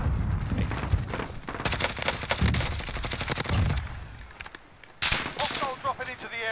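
Bursts of rapid video game gunfire from newly made guns being test-fired, dense and loud, with a brief lull before another volley, and a voice speaking partway through.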